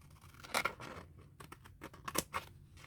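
Scissors snip through paper a few times, cutting a picture out for a vintage Christmas collage book. The cuts are quiet, close and irregular, with light rustling between them.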